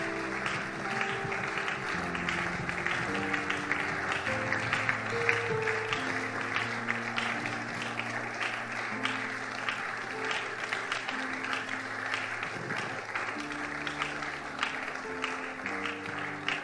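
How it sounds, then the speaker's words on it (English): Congregation applauding steadily at a church service, a sustained wash of clapping with music tones running beneath it throughout. "Keep clapping"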